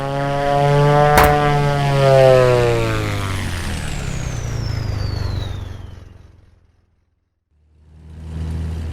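Twin piston engines of a Beechcraft Duke drone steadily in a flight simulator, their pitch shifting and fading almost to silence before rumbling back up toward 2,000 RPM for run-up checks, with a sharp click near the start.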